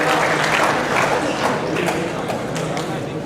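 A crowd claps at a santri graduation and anniversary gathering of an Islamic boarding school, honouring a gamelan music group and its leader. The applause is dense, loud and sustained, with voices mixed in.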